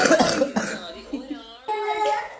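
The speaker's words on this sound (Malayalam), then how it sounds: "ചുമ തുടങ്ങി അച്ഛന്" A man coughs a few times in short bursts, close by, with other voices speaking around him.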